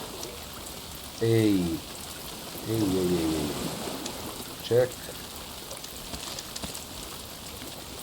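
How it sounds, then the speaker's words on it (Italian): Steady river water rushes and hisses through a video game scene, a constant broadband wash under several short bursts of someone talking. "Ok, qui siamo al fiume."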